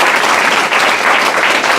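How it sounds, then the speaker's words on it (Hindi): Dense, steady applause from an audience at a direct selling business meeting, many hands clapping together close and loud for the full stretch without any break or talking. "ताली तो बजा दो एक बार यार।"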